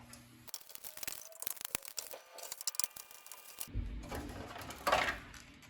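Small screws being backed out of a C6 Corvette headlight assembly with a T10 driver, giving a series of close, sharp plastic-and-metal clicks and ticks, followed by a louder rustle and scrape as the housing is handled.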